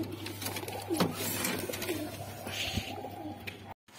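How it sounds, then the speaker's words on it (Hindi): A pigeon coos softly on a rooftop, low repeated murmuring calls over steady background hum, with a short cutout near the end. "तो फाइनली गाइस हमारा कबूतर मिल गया, वो सद्दाम भाई के छत पे उतरा है"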